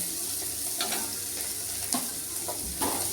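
Asafoetida and ginger sizzle in hot frying oil with a steady hiss, broken by a few soft stirring scrapes, close and moderate in level.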